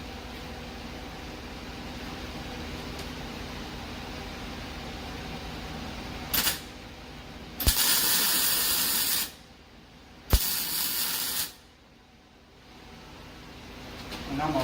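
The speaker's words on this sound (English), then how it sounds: "we're just going to put a couple tacks on this." Tack welding on exhaust piping for a Ram 5.7 Hemi: two short bursts of harsh crackling hiss, each lasting about a second or two, over a steady background hum with voices nearby.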